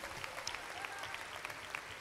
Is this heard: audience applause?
yes